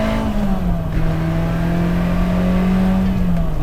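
A 1978 Ferrari 308 GTB V8 drones loudly from inside the cabin while accelerating near 7,000 RPM onto a highway, holding a steady pitch that dips slightly, with road and wind noise underneath.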